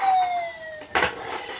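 A police car siren wails in the background, its tone sliding steadily downward before a brief louder burst of noise, with no talking over it.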